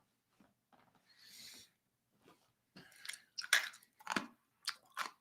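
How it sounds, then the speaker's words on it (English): Someone chewing on a cough drop, with close, irregular crunching and mouth sounds in short bursts, growing louder and more frequent toward the end. "you can see I'm chewing on my cough drop because I'm ready to cough"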